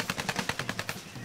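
Machine gun fire rattles in the video game Tropico 5 as rebel troops shoot, a rapid burst of about a dozen evenly spaced shots that trails off, moderately loud and alone.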